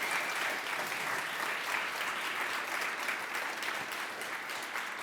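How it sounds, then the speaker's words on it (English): Audience applause at an in-person talk, steady full clapping from a crowd filling the whole five seconds at an even level, heard on its own without voices. "Everybody, please, round of applause for Emilie."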